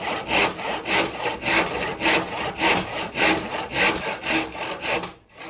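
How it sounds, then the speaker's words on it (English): A hand saw cutting through wood on a workbench in steady back-and-forth strokes, about a dozen rhythmic rasps close up, stopping abruptly at the end. "you keep on sawing until you're in danger of sawing into your workmate."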